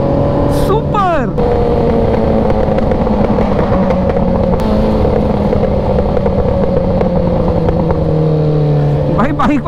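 A loud Bajaj Dominar motorcycle engine drones and revs continuously, with sharp popping backfire bursts from the exhaust near the start and end; people talk over it.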